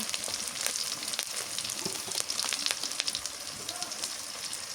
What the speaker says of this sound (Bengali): দিয়ে দিই রসুন বাটা পেঁয়াজ বাটা একটুখানি জিরা বাটা